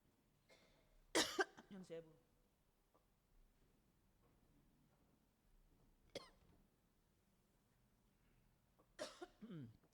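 Scattered coughs from a church congregation during a Sunday service, a few sharp, slightly distant bursts separated by long quiet stretches in a large, quiet room.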